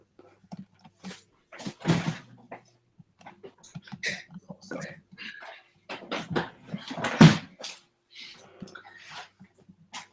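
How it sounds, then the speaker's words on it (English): A dog scuffles with the neighbour's dog, giving short, scattered yelps, whimpers and snorting breaths at close range, with a person talking quietly over parts of it. "my dog is trying to fight with the dog next door"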